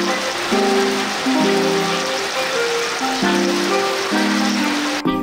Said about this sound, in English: Alright, well that storm caught up to us quick.